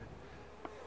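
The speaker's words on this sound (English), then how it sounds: "Some bees that'll just come right after me and chase after me" Honeybees buzz around a beekeeper working an open hive in July, a faint continuous droning hum with a brief louder buzz as one insect passes close by.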